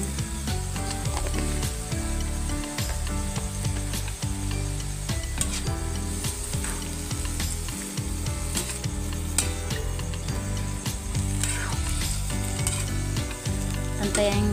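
Stirring ginataang sitaw, string beans simmering in coconut milk with salt, in a pan, a constant bubbling sizzle with repeated scraping and rattling of the utensil against the pan, close and steady, no talk.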